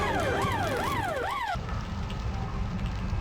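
Police sirens in the prison video game Hard Time III, a wailing two-tone rise-and-fall repeating several times before cutting off abruptly into a low rumbling background.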